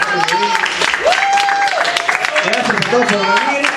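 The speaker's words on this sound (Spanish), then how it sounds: "un aplauso para Javi Mudini" Audience applause rises for a guest at the launch event of a posthumous-work writing contest, running steadily beneath several voices talking and calling out over the clapping.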